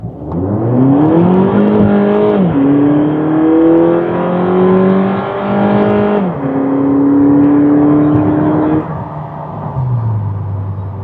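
A 2018 Volkswagen Polo GTI accelerates hard from around 30–40 km/h on an open road, its engine note climbing loudly through rising gears with brief dips at each shift, heard from inside the car without talk.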